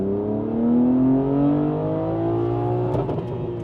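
A BMW G80 M3 fitted with a 200-cell downpipe and single midpipe resonator delete revs its engine, a loud, steady, rising and falling exhaust note that holds close throughout with no talk over it.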